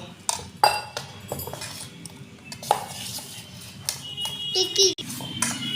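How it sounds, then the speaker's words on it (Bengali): A spoon or whisk beats lentil and gram flour batter in a bowl, giving quick scraping strokes and sharp clinks against the bowl, with voices in the background. "একটু বেসন দিয়ে ভালো করে ফেটিয়ে নিচ্ছি"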